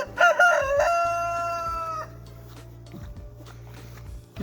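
Backyard chickens, a mother hen with her chick, give a loud close burst of clucking and crowing-like calls, then the calls fade to quieter farmyard background with a low steady hum.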